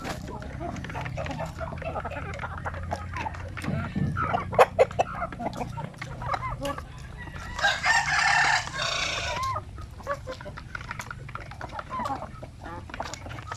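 A native rooster crows loudly once in the middle of a chicken yard, with clucking hens and other fowl around it, while someone talks over much of the scene.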